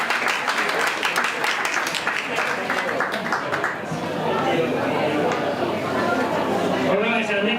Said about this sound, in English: Let's give a welcome round of applause to the Hong Kong Elite athletes